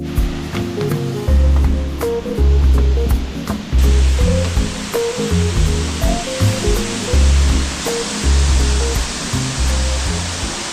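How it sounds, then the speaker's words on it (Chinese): Xinliao waterfall pours down and crashes onto rocks in a loud, continuous roar of rushing water, with a steady rhythmic background tone running beneath it. "瀑布的水从高处落下时，水分子和岩石产生激烈的碰撞而分散。"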